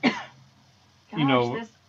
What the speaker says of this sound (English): I'm done coughing